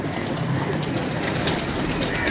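Pigeons coo under a steady wash of broadband outdoor noise, with soft, continuous calls through the short stretch and no clear pauses.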